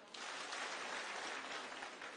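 A crowd at a political gathering in Busia County with Deputy President William Ruto breaks into sustained applause, a dense, even wash of clapping heard at moderate distance with no speech over it.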